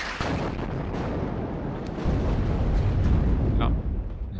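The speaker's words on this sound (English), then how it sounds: "Oh, there's enemy artillery." Enemy artillery in the WARNO strategy game lands as heavy booming blasts, a sustained rumbling barrage that swells louder midway with sharp crackling impacts, while a voice talks over it.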